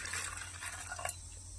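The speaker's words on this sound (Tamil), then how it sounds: "தண்ணி ஊற்றிக்கலாம்." Water pouring into a cooking pot holding a cup of raw peanuts, a steady broadband splashing rush over about a second and a half with a faint clink near the end, heard on its own.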